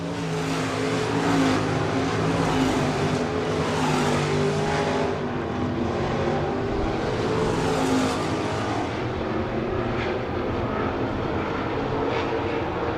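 Stock cars roar around a speedway on the final lap of a heat race, a dense, steady wall of engine noise from several cars with rising and falling swells as they pass, loud and continuous throughout.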